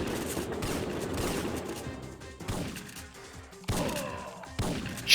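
Shotgun blasts in the Syphon Filter video game hit as separate loud booms spaced a second or so apart, each with a rough crashing tail and no talk over them.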